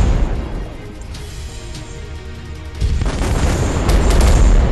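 Shells burst in a naval warship battle game with deep, sustained booming rumbles, one heavy blast rolling into another and swelling louder toward the end, loud and close with a continuous low roar underneath.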